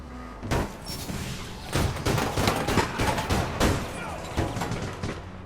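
Gunfire in the online shooter APB Reloaded, with a rapid sequence of sharp shots and bursts running throughout, loud and close in a busy in-game firefight.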